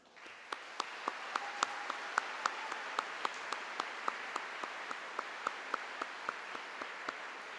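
Distant audience applause in Sydney Town Hall for young organists, a sparse steady clapping with a few individual claps standing out sharply, faint and roomy throughout.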